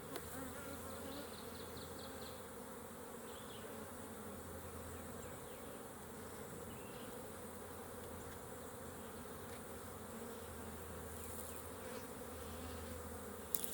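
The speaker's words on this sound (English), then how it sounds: "that is a lot of bees." Dense, steady buzzing of many honey bees close by during a hive inspection, a continuous hum that fills the whole stretch without pause.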